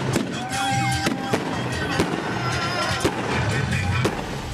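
Fireworks set off at a narco gathering to mark a dead young woman's birthday: sharp repeated bangs and crackling bursts over a continuous noisy background.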